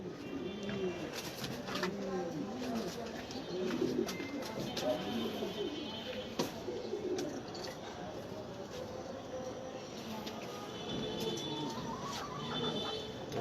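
Pigeons in a home loft coo in repeated low, rolling calls throughout, moderately close, with scattered clicks and faint background noise.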